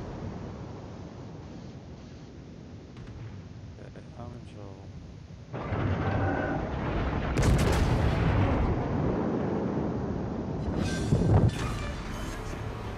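In the naval game World of Warships, a full armor-piercing salvo of ship guns fires at a Queen Elizabeth battleship, with heavy booming blasts coming in a few separate bursts over game noise while a player talks.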